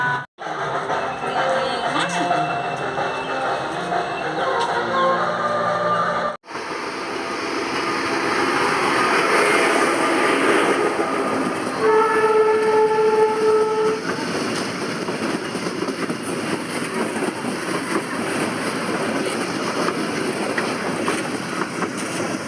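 A train passes through Delang railway station in Odisha, its steady rumble and wagon noise filling the scene, with a horn-like tone sounding partway through while people talk nearby.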